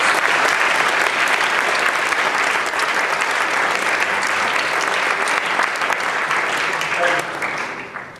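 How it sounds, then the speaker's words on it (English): Audience applause for local partners at the opening ceremonies of the American Folklore Society annual meeting, a loud, dense wash of many hands clapping that holds steady for several seconds, then fades out at the end. "So please give a round of applause to our local"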